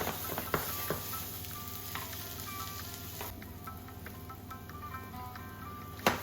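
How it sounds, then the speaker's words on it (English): Aubergine and potato sizzling as they crisp in a frying pan, a steady close hiss of frying oil with occasional sharper pops and scrapes. "here I'm going to grill these aubergine and potato a little more because it tastes so good when they are crispier"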